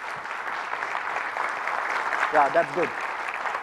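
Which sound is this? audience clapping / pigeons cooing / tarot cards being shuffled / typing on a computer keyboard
audience clapping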